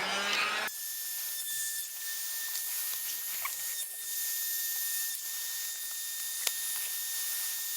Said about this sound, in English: I'm gonna try the heat gun. We'll start off with a low setting.